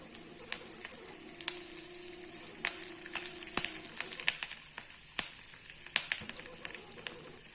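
Curry leaves sizzling in hot ghee in a pan while tempering for pongal, a close, steady frying hiss broken by sharp crackles and pops throughout.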